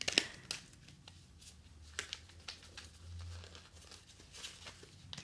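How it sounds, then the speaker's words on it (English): Playing cards being shuffled by hand, with soft crinkly riffles and light flicking patter in a few irregular bursts, close and fairly quiet. "Okay, I'm gonna shuffle."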